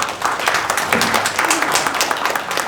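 A room full of people at a Korean village self-governance results-sharing event breaks into applause for a closing speaker, dense continuous clapping, loud and close, with some voices mixed in.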